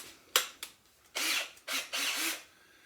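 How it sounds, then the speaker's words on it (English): A power drill fitted with a paint stirrer whirs in several short bursts while mixing bread dough, each burst close and rough, separated by brief pauses with no talk. "to mix the ingredients I use my drill and I use my paint stirrer"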